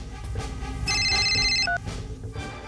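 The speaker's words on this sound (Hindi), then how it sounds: "आपका फोन।" A telephone ringtone sounds briefly, a bright electronic ring lasting under a second amid a noisy indoor scene, with background sound around it.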